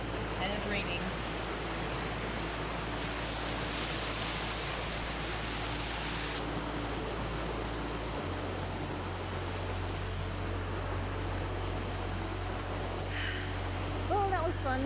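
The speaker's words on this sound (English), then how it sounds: "In the rain by the waterfall." Rain and a waterfall in a Tobago rainforest make a constant broadband roar of rushing water, loud and unbroken throughout, with no distinct individual drops standing out.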